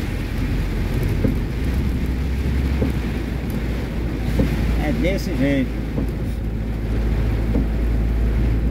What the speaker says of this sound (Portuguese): a chuva tá pesada